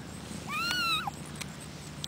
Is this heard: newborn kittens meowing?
yes